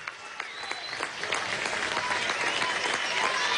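Audience at a ceremony honouring Olympic medallists from Rio 2016 breaks into applause that starts thinner and swells into a full, sustained clapping from a large crowd.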